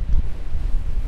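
Steady wind in the Lake District buffeting a microphone on a wet day, a low rumbling roar that gusts and swells without pause.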